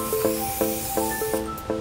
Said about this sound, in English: To spray light coat every 2 minutes or so, every few minutes.